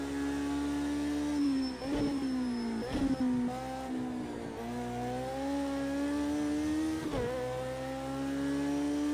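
Bac Mono race car at Bathurst in Project CARS 2, its engine whining high and loud through gear changes, pitch climbing in long pulls with brief drops at shifts, steady and close with no voices.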